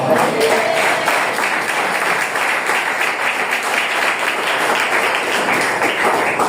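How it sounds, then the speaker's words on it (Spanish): Church congregation clapping hands in praise during a Spanish-language sermon, a steady dense wash of many hands applauding throughout, loud and close, with crowd voices mixed in. "¿Cuántos le quieren darle palmas al Señor?"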